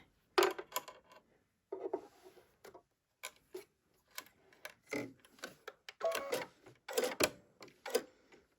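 A presser foot is attached to a sewing machine, with a series of close, sharp plastic and metal clicks and taps in irregular bursts, separated by short silences.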